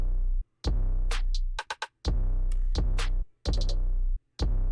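A cleaner, smoother 808 bass pattern without bit crushing or distortion: deep sustained low notes with gliding tones and short gaps, topped by sharp hi-hat and percussion hits in a trap beat.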